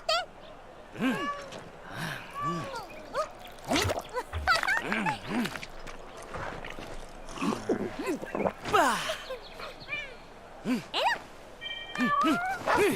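Cat chefs in a Monster Hunter cooking animation meow and mew in a busy string of high, chirpy calls over clattering kitchen noise, lively and close throughout.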